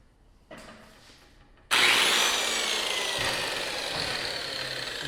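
A failing angle grinder on a curved metal sofa table job starts with a brief rough burst, then runs loud and steady with a harsh, grinding whine that holds close and unbroken.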